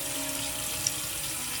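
Running tap water at a sink while cleansing balm is rinsed from the face, a steady close hiss of flowing water with a faint splash partway through.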